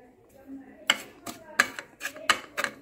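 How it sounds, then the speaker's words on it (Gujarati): Spice blend of masala being stirred in a bowl, a series of sharp clinks and scrapes of a spoon against the bowl in an uneven rhythm, close and moderately loud. "આને મિક્સ કરી લઈએ"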